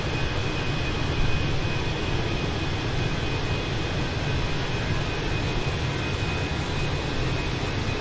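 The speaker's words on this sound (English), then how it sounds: "There's our beautiful Ansett Australia A320 in the Sydney 2000 livery" Simulated Ansett Australia A320 airliner cruising in Microsoft Flight Simulator 2020, a dense, steady engine and cabin drone filling the whole stretch with no talk.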